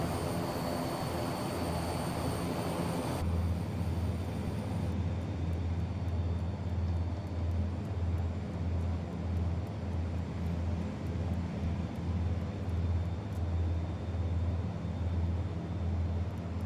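A simulated YS-11 airliner cruises in a flight simulator game, its engines giving a continuous droning hum with a low, pulsing throb. The sound is steady and moderately quiet throughout, with no speech.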